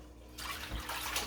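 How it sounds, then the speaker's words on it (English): Stockfish being washed in water, with a short close splash and sloshing of water in a bowl or under a tap. "So I'm washing the stockfish so we can pour it right into the stew now"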